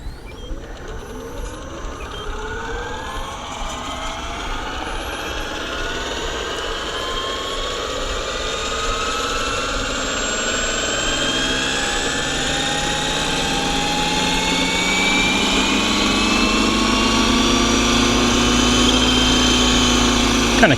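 Roban 600 Airwolf scale RC helicopter hovering outdoors on its maiden flight, a steady loud whine of rotor and turbine-like drive with sweeping pitch changes, rising in level as it hovers, with occasional voices around it.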